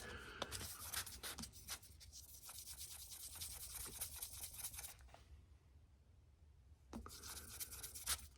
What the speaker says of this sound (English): I'm going to finish going through this series of pads, abrasive pads